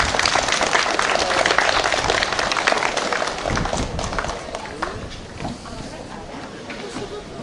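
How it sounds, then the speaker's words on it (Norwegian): An audience at a fishing competition in Kalvåg applauds a prize winner, a dense burst of clapping that gradually thins and fades, with speech mixed in. "Så klapper vi for han."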